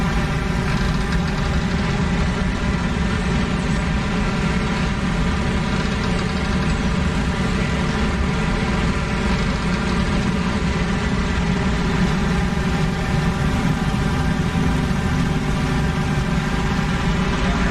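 The piston engine of a WWII fighter plane runs steadily at a constant drone, loud and close, with a rough harmonic hum and no break over the whole stretch.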